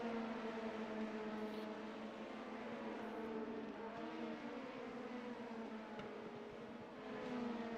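LMP2 prototype race cars lapping Spa in a sim racing game, engines whining in a steady, faint layered drone of several cars held at high revs throughout.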